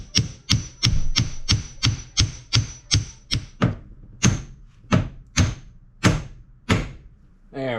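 A rubber axle boot is tapped down into place on a Polaris ACE, giving a run of sharp, close knocks, quick and evenly spaced at first, then slower, with a brief voice at the very end.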